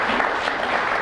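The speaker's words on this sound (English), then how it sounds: "Clap for the Lord right now." A church audience applauds in a steady, dense patter of many clapping hands, moderately loud and continuous across the short moment.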